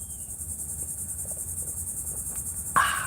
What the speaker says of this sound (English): Can you hear the cicadas out there?